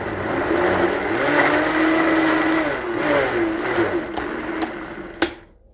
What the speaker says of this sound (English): So you're just gonna kind of pulse it until you get it to like a grated consistency.